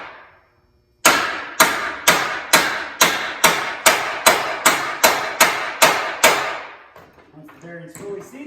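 A press tool is tapped with a hammer to seat a bearing into its retainer on a Yeti Snow MX: about a dozen sharp, evenly spaced metallic knocks follow a pause, close and loud, then shuffling handling noise.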